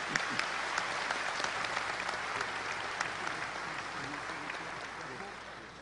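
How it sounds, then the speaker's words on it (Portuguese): Audience applause for a pastor at a large church gathering fills the space with a dense, sustained clapping that stays steady, then slowly fades slightly toward the end, with no voices standing out. "Eu queria que vocês o saudassem também com uma calorosa salva de palmas."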